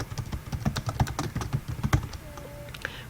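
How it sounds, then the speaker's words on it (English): Rapid, uneven keystrokes on a computer keyboard as a paper title is typed, close and fairly loud, running in quick bursts with a brief pause near the end and no voices. "I now type the title of my paper"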